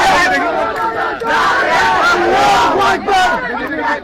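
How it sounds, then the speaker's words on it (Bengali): A dense student protest crowd at a coffin procession in Chittagong chants slogans in loud, close unison, voices rising and falling in rhythmic waves with little pause. "আমরা দেখছি তারা বেশ কিছু স্লোগান তারা দিচ্ছেন"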